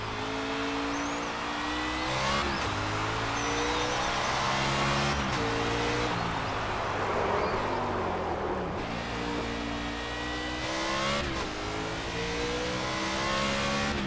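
Race car engine on a practice lap of the Chicago street course in NASCAR 25, a loud continuous roar rising and falling through repeated upshifts and downshifts, with revving and brief drops as it brakes into corners.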